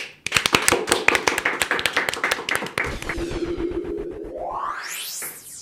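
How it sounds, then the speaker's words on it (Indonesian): Podcast studio audience clapping for the Naik Kelas show, a burst of sharp, close hand claps that thins out to a few scattered taps before a rising electronic whoosh sweeps in at the end. "Boleh tepuk tangan dong?"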